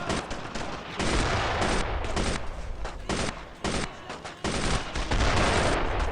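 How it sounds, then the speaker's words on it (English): Machine gun fire in Brothers in Arms, loud dense bursts of automatic shooting with short breaks between volleys, close and continuous over several seconds. "paratroopers dropped in with machine guns"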